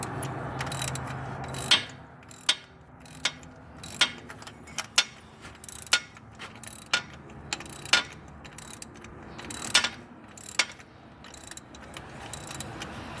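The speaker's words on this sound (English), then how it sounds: "unscrewing the nut for the oil cooler housing" A wrench works the oil cooler housing nut on a 2002 Infiniti I35. The ratchet gives a long run of uneven metallic clicks and ticks, close and clear, with a low background hum.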